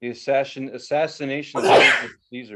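A person talks, then a sudden loud, breathy sneeze bursts out mid-conversation before the talking resumes.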